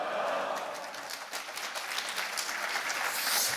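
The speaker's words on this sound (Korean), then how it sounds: "설교자는 박수 소리가 별로 안 커요." A church congregation at a national elders' retreat applauds to welcome the preacher, dense steady clapping from a large room, sustained throughout with no voices over it.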